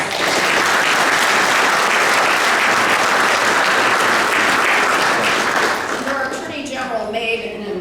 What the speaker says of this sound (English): So let's give all of the candidates a round of applause.